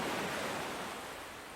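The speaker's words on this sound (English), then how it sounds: "I can hear the ocean." Ocean surf near a beach heard from a distance: a steady, broad, hissing wash that holds even and eases slightly toward the end, with no voices.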